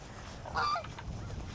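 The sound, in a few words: goose honking on a pond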